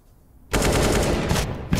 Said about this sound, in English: Tabson will bounce back with a frag of his own with the AWP.